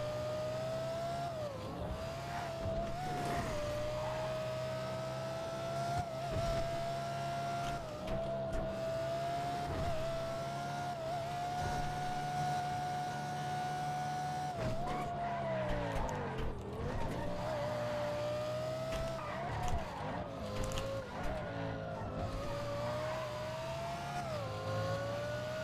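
A car in the video game GTA drives hard with a continuous, revving engine whine that rises and falls, and tires skid and squeal through turns across the whole stretch.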